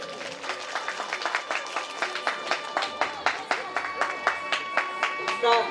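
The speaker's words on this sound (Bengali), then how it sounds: "সবাই মিলে একটু হাততালি দেবেন" An audience at a primary school's platinum jubilee ceremony claps together, a dense burst of applause with sharp individual claps rising and falling for several seconds.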